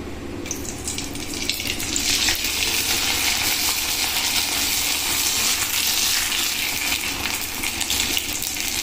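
Homemade sago papad frying in hot oil, a loud, dense bubbling hiss that swells and holds steady throughout, close up with no voices.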